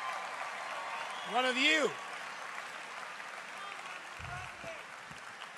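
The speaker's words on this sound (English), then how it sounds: "Let's have a round of applause for that idea." A crowd at a Des Moines political event applauds in a continuous broadband wash of clapping, with a voice calling out briefly over it.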